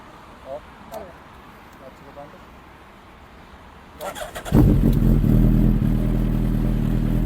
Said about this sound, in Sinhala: මේ එක්සෝස් එකේ හඬ අපි දැන් අහන්න යන්නේ.